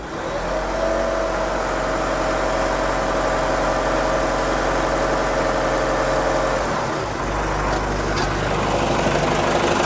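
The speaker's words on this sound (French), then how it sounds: "Il va démarrer, hein, mais c'est juste qu'il a du mal à faire décoller le piston." A backhoe loader's 4.7-litre diesel engine with a weak battery runs with a loud, steady low rumble and clatter, the tone shifting briefly partway through before settling back.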